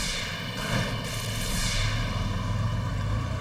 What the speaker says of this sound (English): The plane follows the original car.